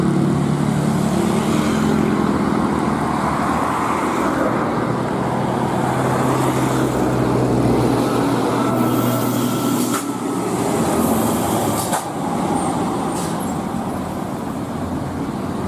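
A Budiman tour bus drives down a steep, winding descent, with a loud, steady roar of engine and road noise that runs the whole time and never breaks off.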